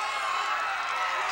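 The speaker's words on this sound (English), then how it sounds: "Standing ovation from the people at the Irish McNeil's Boys Club." A wrestling crowd at the Irish McNeil's Boys Club gives a standing ovation after a TV title match, a steady wash of distant cheering and clapping with no breaks, a commentator's voice running over it.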